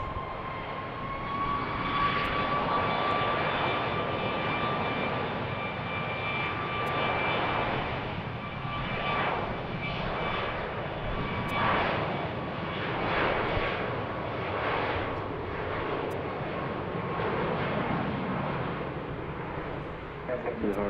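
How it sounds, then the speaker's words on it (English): United jet airliner taking off from BWI airport, a steady loud roar of jet engines that holds for about twenty seconds, with a faint tonal hum and people talking over it. "Oh, we have United taking off."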